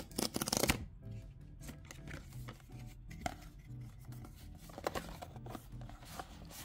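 Magic: The Gathering booster packs torn open and cards handled, with a sharp crinkly rip of wrapper at the start followed by soft repeated shuffling, sliding and flicking of cards close by, no voice heard.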